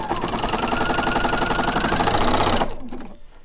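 A sewing machine stitches quilt binding made from fat quarters in a steady, fast mechanical rattle that runs loud and close for about two and a half seconds, then stops abruptly into near silence.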